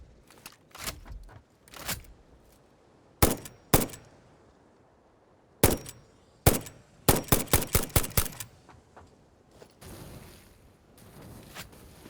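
Rifle fire from the video game Satisfactory: sharp, loud shots ring out singly and in pairs, then a quick burst of about half a dozen rounds, separated by quiet gaps.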